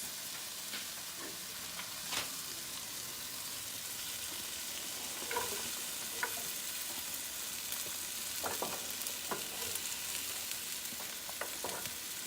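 Mushrooms and onions frying in a pan, a quiet, even sizzle with occasional faint clicks and spatters throughout, close but low in level and free of talk.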